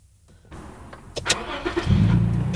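A car in Cusco, Peru, comes to life after a quiet start with a few clunks from the controls, then its engine runs steadily and close.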